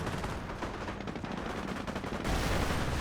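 Battle sounds from Company of Heroes around a 75mm Pak 40 anti-tank gun, with dense rapid gunfire and crackling shots that run steadily and get louder near the end, with no voices.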